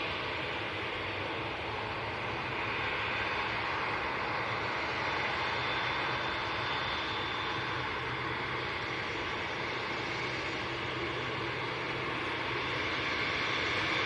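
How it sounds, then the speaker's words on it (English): A Boeing 787 Dreamliner jet at Manchester Airport gives a steady, loud, broadband engine roar that holds without a break, with no voices over it. "So this is a 787 Dreamliner going back to Doha."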